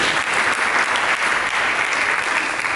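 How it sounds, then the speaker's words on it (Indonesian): A congregation at a Christmas church service clapping, a dense, steady wash of many hands, loud and continuous throughout with no voices rising above it. "Mari kita berikan tepuk tangan bagi Yesus"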